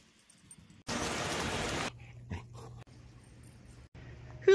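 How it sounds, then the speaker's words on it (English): Rain falling outdoors makes a dense, loud hiss for about a second, then gives way to quieter background hum and scattered faint sounds. "Caught in the rain."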